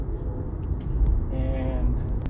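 A 2020 Chery Tiggo 2 Luxury accelerates at full throttle in traffic, its engine droning and rising in pitch under road rumble, heard from inside the cabin, with a voice partly talking over it.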